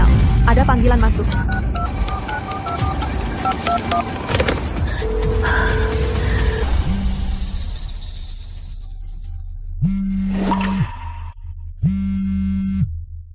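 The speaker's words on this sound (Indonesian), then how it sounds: "Ada panggilan masuk." An incoming call rings on a phone in a dramatic scene of someone trapped atop a 300 m tower. Dense music fades out, then two loud, steady electronic ring bursts sound a few seconds apart.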